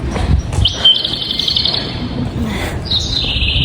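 An electronic bird-like chirping signal sounds at a Japanese train station, with two bright, sustained warbling tones over a low hum of station noise.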